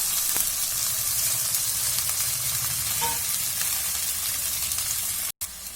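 Loud, steady sizzling of chopped tomatoes frying in a hot pan, a continuous crackling hiss with faint stirring scrapes, close up, and no talking.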